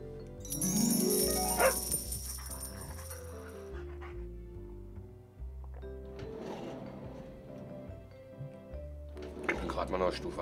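A dog in the PS5 game Animal Hospital gives a few short barks and whimpers among game music and effect sounds, near and fairly clear, with no talk over it.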